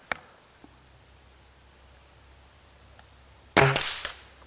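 One sharp air rifle shot fires at a 30-yard target, a single loud crack near the end of an otherwise quiet stretch.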